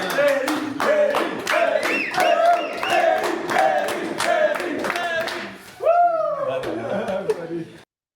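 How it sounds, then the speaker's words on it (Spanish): Rhythmic clapping from an audience at a presentation for a national adventure sports gathering, with shouts and cheers over it, then a voice rises before the sound cuts off. "Y pienso que se merece un aplauso nuestro también aquí."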